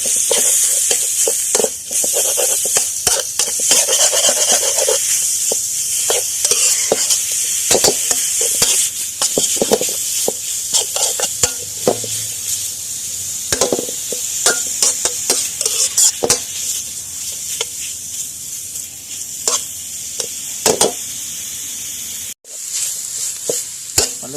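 Wild boar meat stir-frying in a pan for a spicy stir-fry: loud continuous sizzling with frequent scraping and clinking of a utensil against the pan, briefly dropping away near the end, no voices.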